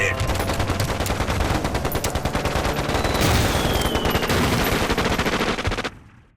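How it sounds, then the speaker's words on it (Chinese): Machine guns firing a sustained volley in a wartime battle scene from an anti-Japanese war film, loud rapid continuous bursts for about six seconds before cutting off abruptly. "听我的命令，机枪齐射，打兔崽子"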